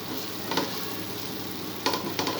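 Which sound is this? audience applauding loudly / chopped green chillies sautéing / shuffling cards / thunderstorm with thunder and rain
chopped green chillies sautéing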